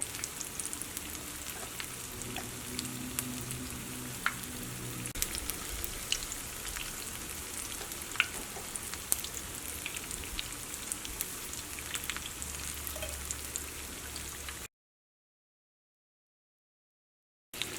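Wheat flour and banana cake batter frying in hot oil, a soft, even crackle and fizz running steadily at low volume, then cutting out abruptly before a brief return at the end.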